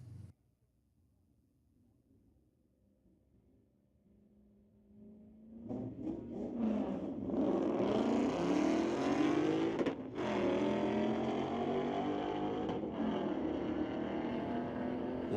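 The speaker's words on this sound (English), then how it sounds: "Lauren Stewart out of Port Coquitlam brings up the 2003 Mustang first, racing against local runner Owen Liebeck" Two Mustangs, a 2003 and a 2019, launching side by side in a street-legal drag race at a raceway: quiet idle, then a loud surge of roaring engines from about six seconds, sustained at full throttle with brief dips as gears shift.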